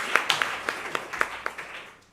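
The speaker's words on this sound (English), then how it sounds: "please give these warriors a massive round of applause" Applause at a national epilepsy conference, a sparse, fairly quiet patter of individual claps with a few sharper hand strikes standing out, thinning toward the end.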